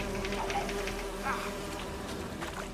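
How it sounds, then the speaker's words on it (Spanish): Bees buzz in The Witcher 3 video game, a close, continuous insect drone that fills the whole short stretch at a fairly even level, alone without talk. "Me picaron las abejas."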